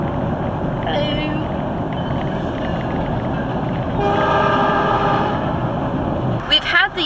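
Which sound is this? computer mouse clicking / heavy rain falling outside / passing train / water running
passing train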